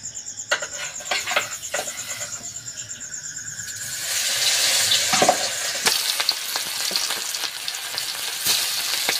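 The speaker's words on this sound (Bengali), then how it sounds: "মাছে লবণ হলুদ মাখানো হয়ে গিয়েছে, আর তেলটা কিন্তু গরম হয়ে গিয়েছে। এবার মাছগুলো তেলে ভেজে নেবো।" Magur catfish rubbed with salt and turmeric fry in hot oil, the hiss swelling into a loud, dense crackle partway through, with scattered sharp pops and utensil clicks nearby and crickets chirping faintly in the background early on.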